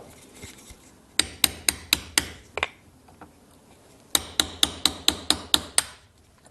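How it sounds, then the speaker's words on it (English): Two bursts of sharp metallic taps from a hammer on a punch, knocking the porcelain out of a spark plug, about six rapid strikes each, ringing close and loud with a brief quiet gap between. "We get a punch and we get a hammer,"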